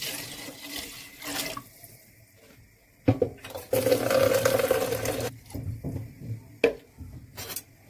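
Water pours into a cooking pot for a soup, splashing and gurgling in close bursts from a tap, with a long, loud continuous fill in the middle and shorter intermittent pours around it, without talking.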